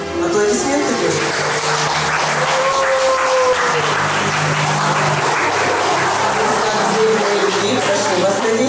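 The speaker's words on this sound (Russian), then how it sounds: "Аплодисменты, друзья." Wedding guests applaud at a civil registration ceremony, a loud, steady wash of clapping filling the room while music or voices sound underneath.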